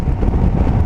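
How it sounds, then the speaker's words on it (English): Steady low wind buffeting and rushing air from riding a 2023 Indian Sport Chief motorcycle on a cold, windy day, a loud continuous roar close to the microphone with no talk. "It's windy and cold."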